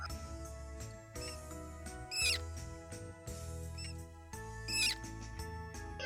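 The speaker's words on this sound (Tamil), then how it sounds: "எலி கீச்சிடும்." Mouse squeaks, two short high chirps about two and a half seconds apart, faint and thin over a steady background hum, with no talk.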